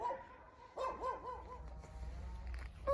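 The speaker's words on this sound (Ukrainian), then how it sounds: "Ще й гавкає." A dog standing behind a gate barks a few times at a distance, short and faint over low outdoor rumble in a garden vineyard.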